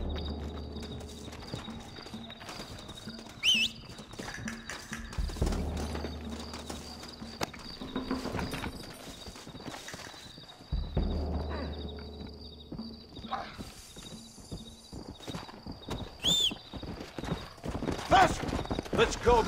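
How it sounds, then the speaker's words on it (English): Hooves clip-clop rhythmically as horses trot in the video game Red Dead Redemption, with an occasional whinny and some background effects, fairly close and steady. "Looks like Carlos left us some horses."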